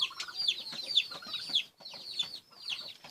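Chickens clucking softly nearby, quick irregular bursts of clucks and brief higher calls, fairly quiet with no talking.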